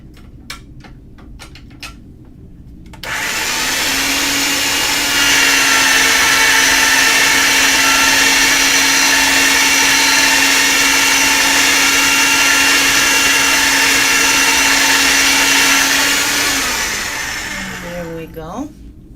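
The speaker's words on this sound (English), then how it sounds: "I'm going to go with it on the thinner setting on the pasta machine, and then I'm going to fan fold it" Polymer clay Skinner blend fed through a pasta machine on a thin setting: a steady, loud mechanical whir with a faint low hum that holds for about fifteen seconds, framed by a few brief clicks before and after.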